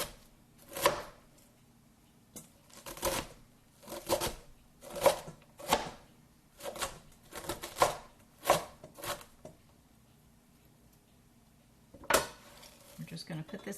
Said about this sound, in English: I'm going to turn it sideways and just give it a few chops this direction.